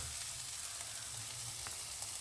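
Pieces of pumpkin sizzle in hot oil with a steady, dense frying hiss that runs continuously at moderate loudness, dotted with small crackles and pops, and no voices.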